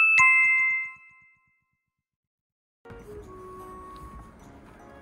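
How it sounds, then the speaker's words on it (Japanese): A telephone rings in a quiet home: a bright electronic ding with a tinkling tone sounds once near the start and fades out. A spell of near silence follows, then a low background rumble with faint tones. "電話鳴ってる。"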